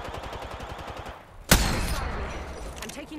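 Rapid bursts of gunfire in Apex Legends rattle off, then one loud, sharp shot cracks out and a noisy tail of further firing follows.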